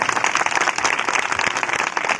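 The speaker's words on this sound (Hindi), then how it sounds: "जोरदार ताली बजाएंगे परमेश्वर की" Loud, continuous applause from a church congregation at an annual celebration service, dense clapping sustained evenly throughout with no talk over it.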